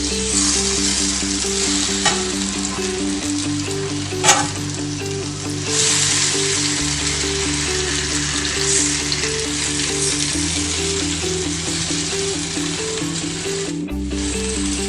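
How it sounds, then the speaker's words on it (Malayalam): A stuffed banana (pazham nirachathu) fries on a low flame, giving a steady, close sizzle with occasional stirring scrapes over a quiet, continuous hum. "നമുക്കിത് ചെറിയ തീയിൽ ഫ്രൈ ചെയ്യാം"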